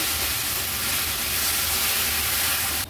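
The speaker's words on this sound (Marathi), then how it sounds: "आता एक 3 ते 4 मिनिटांसाठी ही कैरी तुपावर आपल्याला छान परतून घ्यायची आहे" Grated raw mango sautés in ghee over a medium flame, giving a steady, dense sizzle and hiss that stays even and close throughout, with no other sounds.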